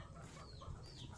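Chickens cluck close by in a short burst, soft throaty calls over a low background hum.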